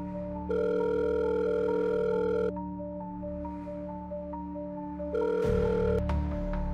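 A telephone call sound effect: two long ringback tones with a pause between them, steady electronic hum-like buzzes heard up close and alone, ending with a click as the line picks up.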